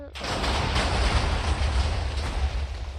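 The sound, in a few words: dynamite TNT firework exploding in a video game mod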